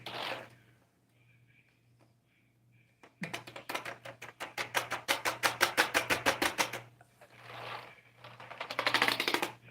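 Key clicks from a phone keyboard come in a fast, even, close run of sharp taps, then two shorter bursts after quiet gaps, over a steady low hum.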